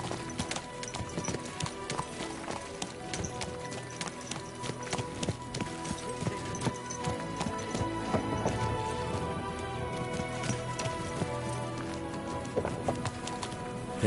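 Hoofbeats of a horse clip-clopping in Kingdom Come: Deliverance II, a continuous, fairly close rhythmic clatter of hooves that persists the whole time over quiet game ambience, with a snort or whinny faintly mixed in.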